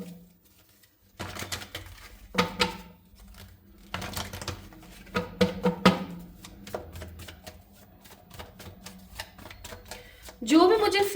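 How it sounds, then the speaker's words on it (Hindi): Tarot cards are drawn and shuffled in quick bursts of flicking, slapping card sounds, with someone talking over them and brief quiet gaps between the shuffles. "पहले मैं कार्ड्स निकाल लेती हूँ, फिर उसके बाद आप लोगों के लिए कार्ड्स को एडजस्ट कर दूंगी।"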